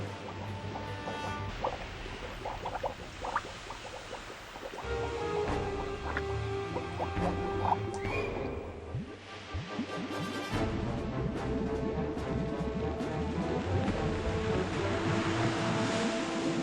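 Ocean waves in a scene from the low-budget film Birdemic 2: The Resurrection: a steady, full wash of surf and wind runs throughout at a constant level, with no voices over it.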